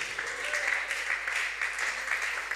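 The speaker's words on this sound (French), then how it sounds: "Que Dieu exauce vos applaudissements au nom de Jésus." A church congregation applauds during a French-language sermon, a steady, dense patter of many hands clapping at moderate distance, sustained throughout without pause.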